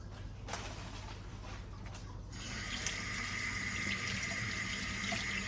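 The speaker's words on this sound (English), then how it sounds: "then wash the stems or the stalks" Vegetable stalks are rinsed under a running kitchen tap, a steady close hiss of water that gets louder and fuller halfway through and keeps flowing to the end.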